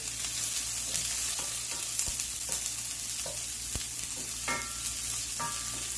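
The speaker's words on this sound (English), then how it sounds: "Minced up onions. Give it a little stir." Minced onions fry in smoking hot oil in a cast iron pan, a steady loud sizzle with occasional sharp scrapes and knocks as they are stirred.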